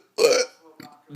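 A man's single loud, voiced hiccup bursts out near the start, followed by a couple of fainter, short throat sounds.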